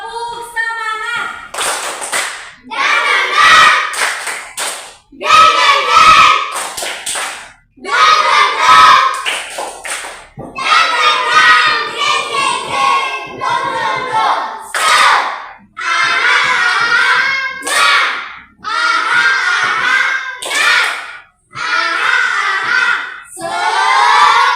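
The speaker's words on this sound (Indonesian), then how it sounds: "Tepuk semangat." A classroom group of teachers performs the 'tepuk semangat' ice-breaker, loud rhythmic clapping in bursts with patterned beats and short pauses, mixed with voices chanting and shouting along.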